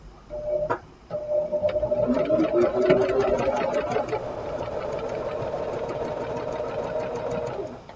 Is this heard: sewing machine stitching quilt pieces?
yes